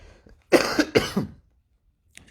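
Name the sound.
person coughing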